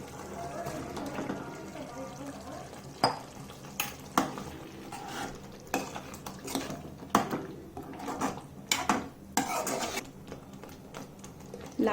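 Fried eggs are stirred into a bubbling egg curry masala, Karnataka style, with a soft simmering sizzle under repeated spoon scrapes and knocks against the pot, some louder than others, at close range.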